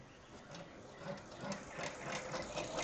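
A home embroidery machine stitching out the back wing of an insect-garden butterfly design, a steady quiet mechanical whir and rapid needle rhythm running continuously at low level, with no talking.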